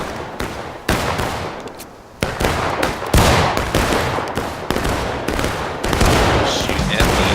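Rifle gunfire in a battle video game, dense rapid volleys and bursts of shots, loud and continuous with short gaps, under occasional voices.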